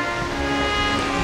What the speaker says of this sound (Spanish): Aquí vais a tener sonido de agua